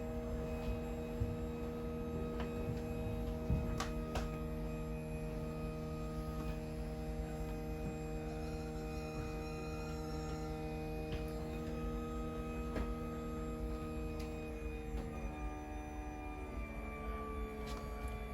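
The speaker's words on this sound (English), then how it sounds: "Once the slides get out towards the end, you'll just hear a little bit of a whine coming from the motor" A 2021 Wildwood 42 QBQ RV slide-out motor whines steadily at full extension, a continuous tonal hum with layered harmonics held at even loudness, close by, with no talking.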